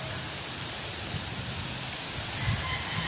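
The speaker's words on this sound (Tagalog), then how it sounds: "Ayan o, ulan talaga guys." Steady rain starting to fall outdoors beside banana and bitter gourd plants under thick dark clouds, a continuous broadband hiss with no speech.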